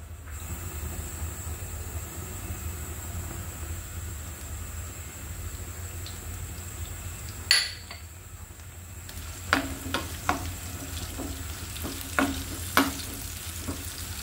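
Onions fry in oil in a pan with a low, continuous sizzle, joined midway by a loud clatter and then several spaced scrapes and taps of a spatula stirring.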